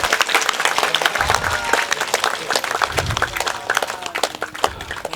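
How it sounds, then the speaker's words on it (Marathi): A gathered audience claps loudly to welcome a guest at a ceremony, a dense and continuous wave of applause lasting several seconds. "टाळ्या वाजवून स्वागत करावं."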